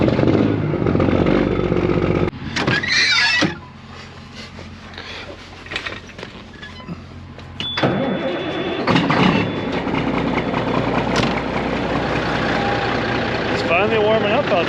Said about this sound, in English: time to start some trucks up, let them warm up